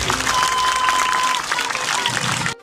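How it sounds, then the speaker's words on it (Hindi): Loud, dense applause from a village gathering welcoming soldiers at an honour-wall ceremony, sustained and close for over two seconds before cutting off abruptly. "मैं सभी से दरखास्त करता हूं कि जोरदार तालियों के साथ उनका स्वागत, उनका धन्यवाद देना।"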